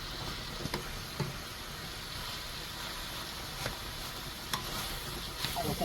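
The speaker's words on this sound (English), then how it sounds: "This is stir-fried veggie." Mixed vegetables, broccoli among them, stir-fry in a pan: a steady soft sizzle runs under scattered light scrapes and clicks of a utensil stirring against the pan, close and fairly quiet, with no talking.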